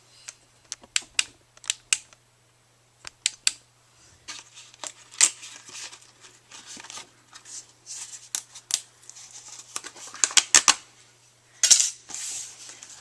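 A metal zipper die is peeled away from freshly cut paper for a scrapbook page, giving a run of sharp, close crinkling and tapping rustles in irregular bursts with brief pauses, no talk.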